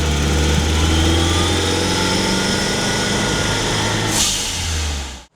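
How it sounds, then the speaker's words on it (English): Engine of a 1987 Chrysler Conquest turbo hatchback, a loud sustained engine drone with turbo whine, then a brief whoosh before the sound cuts off. "those turbo noises just make me smile so much"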